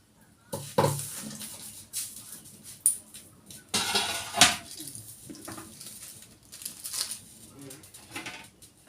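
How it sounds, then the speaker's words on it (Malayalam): A clay cooking pot clanks and scrapes on a metal stove surface a few times as it is moved aside, with scattered knocks and utensil clatter around it and some talk nearby. "സ്റ്റവ് മാറ്റി വെക്കുക ആ ചട്ടി മാറ്റി വെക്കുവാണേ"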